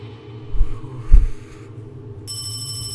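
A phone rings in the horror video game Paranormal HK, a trilling electronic ring entering near the end over a low rumbling ambient hum with a couple of dull thumps.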